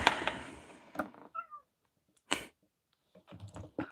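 Leo, a pet cat, lets out a few short, whiny meows with gaps of silence between them, fairly close and alone after a brief burst of rustling at the start.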